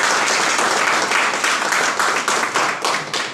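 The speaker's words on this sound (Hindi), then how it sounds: "आज हमारे chief guest mister Manoj Kumar Saini ji के लिए मैं आप लोगों से जबरदस्त तालियां" Loud, dense applause from an audience in a hall for a chief guest, steady rapid clapping throughout with slight swells.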